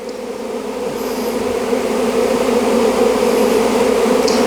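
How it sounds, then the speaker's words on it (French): A honeybee swarm flying back out of a small nucleus hive, a loud, dense, continuous buzzing hum that builds slightly and stays up close, with no voices. "L'essaim ressort de la ruchette."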